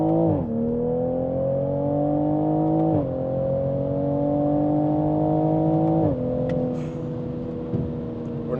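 A 2020 Toyota GR Supra pulls hard in second gear, its engine note climbing steadily through the rev range in long rising sweeps, with brief dips at each break in the pull, loud and close from inside the car.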